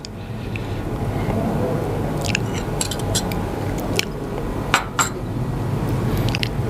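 A utensil clinks lightly and irregularly against a bowl while beaten egg is stirred with salt and pepper, producing scattered small taps over a soft background murmur.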